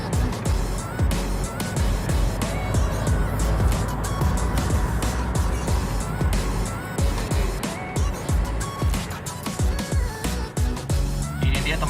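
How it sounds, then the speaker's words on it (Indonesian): A 2005 Toyota Innova petrol car on a test drive, heard as a steady engine and road drone inside the cabin with frequent knocks and rattles over the road, continuous and fairly loud throughout. "Ini dia teman-teman hasil test drive Innova 2005 bensin"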